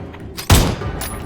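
A single sharp, heavy gunshot bursts out loud and close in a PUBG Dead by Daylight mode match, decaying quickly into a faint low rumble.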